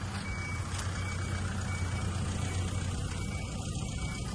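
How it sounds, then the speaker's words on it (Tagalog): A noisy truck reverses near a reservoir park, its steady engine drone carrying a faint repeating backup beep over constant outdoor background noise. "May sasakyan na maingay."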